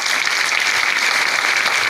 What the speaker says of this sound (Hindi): तालियां बजाओ, ढंग से बजाओ।